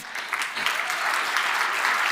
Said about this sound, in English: Can we give them a warm applause